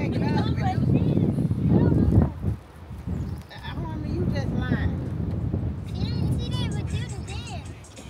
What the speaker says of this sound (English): Hell, the wind blowing.